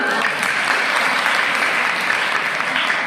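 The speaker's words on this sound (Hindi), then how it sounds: "तालियों से मेरा इस्तकबाल लगातार करते रहे" A college poetry recital audience applauds in a dense, steady wash of clapping that holds at an even, loud level throughout with no talk over it.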